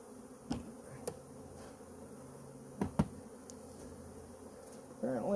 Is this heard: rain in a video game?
no